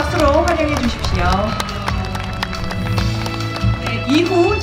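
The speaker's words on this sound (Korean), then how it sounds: "여러분 따뜻한 박수로 환영해 주십시오" Guests at a Chuseok art-song evening are welcomed with warm applause, a steady patter of clapping under a murmuring crowd, with a voice speaking at the start and end.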